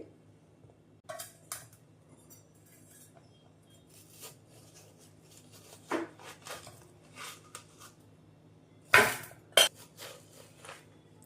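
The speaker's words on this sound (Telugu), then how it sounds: "ఈ పుచ్చకాయలోని గుజ్జంతా కూడా మనం ఒక గిన్నెలోకి తీసుకోవాలి" A spoon scrapes and scoops pulp from half a watermelon into a bowl in a home kitchen. Scattered soft clinks and scrapes come in irregular bursts, with two louder knocks near the end, over a faint steady hum and no talk.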